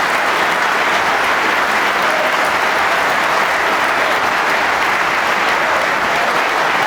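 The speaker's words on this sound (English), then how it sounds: "That applause is from the other side of the arena." Steady, loud applause from a large arena crowd at the World Snooker Championship, coming from the far side of the arena, a dense continuous clatter of clapping that holds evenly throughout.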